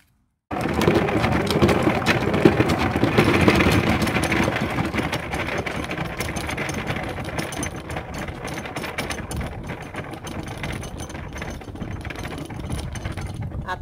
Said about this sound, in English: I'll spin it out, show you how the spinner works